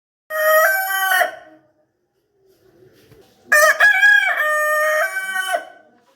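A rooster crows twice up close, the first call short and the second a long, full cock-a-doodle-doo, with a brief quiet gap between them.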